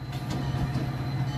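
Blue and white diesel locomotive in Rockport, Massachusetts, rumbling steadily close by with a deep low engine drone and faint rail clatter, heard alone without talk.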